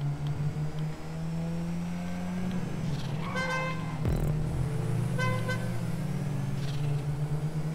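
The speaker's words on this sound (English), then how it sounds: "Dexter's kind of got the thank you honks for lappers." Short car horn toots in a racing video game, two or three brief honks sounding over a steady engine drone as cars run laps on a raceway, with no talk.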